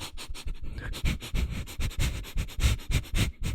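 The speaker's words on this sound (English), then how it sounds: "Wow, can that really pick up my sniffs?" A person sniffing repeatedly up close, a rapid series of short nasal inhales in a steady rhythm, clear and alone with no talking.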